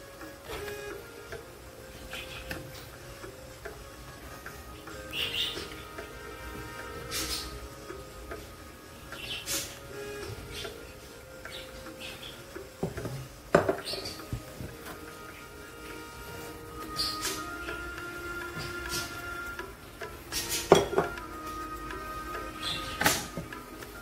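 Knife slicing a tomato on a cutting board, scattered soft taps and cuts spread irregularly through a quiet kitchen with faint background hum.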